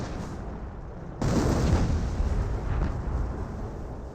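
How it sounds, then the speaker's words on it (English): A 25-pounder artillery barrage in Company of Heroes: a dense, loud roll of overlapping explosions bursts in suddenly and keeps rumbling for several seconds with no talk over it. "And we do got another 25 pounder barrage right there"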